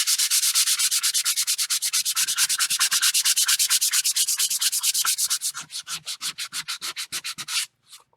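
Steady, rhythmic back-and-forth rubbing of sandpaper over gesso-coated paper, close and loud, slowing into looser strokes near the end.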